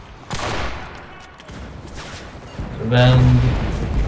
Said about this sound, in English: They're shooting you, go hide